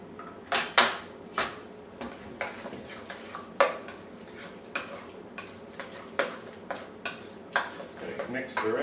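A spoon stirs ricotta with egg, salt and pepper in a bowl, knocking against the sides in a steady rhythm of close, clinking scrapes with a faint background sizzle.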